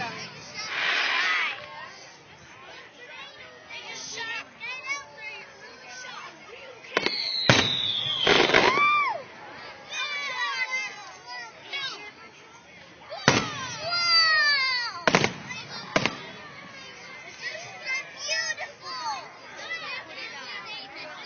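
Fireworks at an Honor America Day celebration: repeated sharp booms and crackling bursts, some sudden and loud, scattered over about twenty seconds beneath steady crowd chatter and nearby voices.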